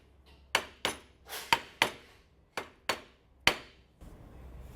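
Seven sharp, close taps, irregularly spaced, each ringing briefly, as a preload lift collar part is knocked into place on a 2024 Toyota Land Cruiser during suspension work.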